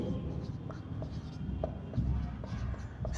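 Chalk or marker scratching across a classroom board in short strokes and taps while an equation is written during a physics lesson, steady and close, with a voice talking underneath.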